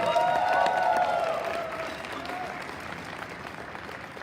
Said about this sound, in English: Let's have a round of applause for Team Unravelers.